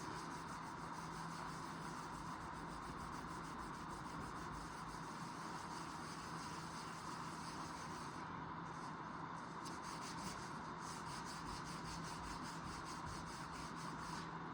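Steady, close rubbing and scrubbing on the faded paint of a 1969 Chevelle SS, worked with gritty dish soap, a continuous abrasive swishing with no pauses.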